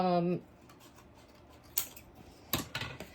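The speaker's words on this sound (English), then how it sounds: "I'll cut out another one with you guys" A brief voice opens, then scissors snip a paper tag for a junk journal in a few close, crisp cuts, one single snip followed by a quick pair.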